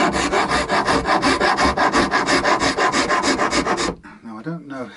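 Shinto rasp filing wood in steady back-and-forth strokes, about fourteen even, close rasping passes in a regular rhythm, stopping near the end.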